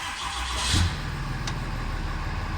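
A Cummins diesel truck engine cranks and fires up, a brief louder surge settling into a steady low rumbling idle, close by with no talking.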